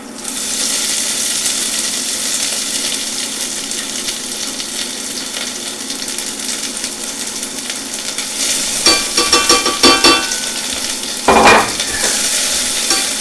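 Pepper mixture hits a hot pan, giving a steady loud sizzle and hiss that swells into crackling, spattering bursts and scraping stirs toward the end, heard close with no talking.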